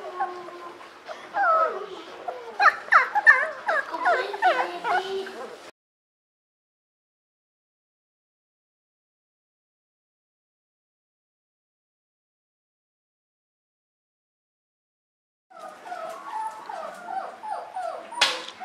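Tiny 18-day-old puppies whimper and squeak in high, wavering cries while suckling, a busy chorus that stops into silence before resuming near the end.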